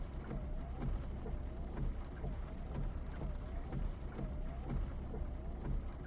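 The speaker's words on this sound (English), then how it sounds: "Sure is raining hard." Heavy rain pours steadily in the video game Final Fantasy VII, a soft, even hiss with faint low rumbles underneath, quiet and continuous with no voices.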